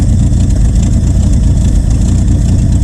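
A Ford F350 truck engine idles roughly, a steady loud low rumble with uneven pulsing throughout, close by and with no talking.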